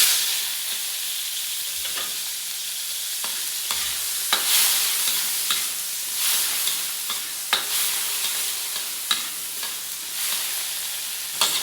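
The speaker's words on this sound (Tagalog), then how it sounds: "Ayan, nagigisa na." Onion, garlic and tomato sautéing in a hot pan, a steady bright sizzle with scraping stir strokes and small clicks of the utensil throughout, close and alone with no talk.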